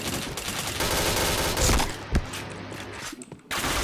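Rapid gunfire from a shooter video game, dense bursts filling the clip with a couple of heavy thumping shots near the middle, loud and close with no talking.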